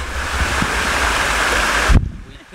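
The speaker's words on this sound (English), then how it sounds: "This is the slip and slide waterfall." A small waterfall on a marked trail gives off a steady, close rushing roar of falling water with some wind buffeting, then cuts off abruptly near the end.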